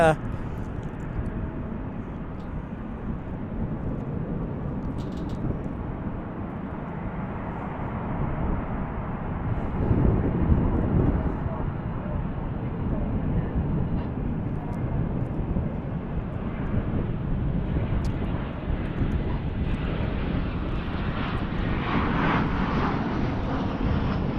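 A Qantas Airbus A380 airliner on approach to DFW airport, a steady, distant engine rumble that builds slightly as it nears, with people talking over it.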